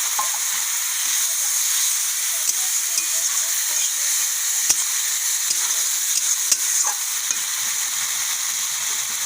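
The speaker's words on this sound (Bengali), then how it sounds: "মশলাটাকে কষিয়ে নেওয়ার জন্য একটু জল দিয়ে দিচ্ছি।" Spice paste with turmeric, moistened with a splash of water, frying and sizzling in a pan for a mustard-sauce koi fish curry, with a steady close hiss, soft stirring scrapes and occasional sharp spatters.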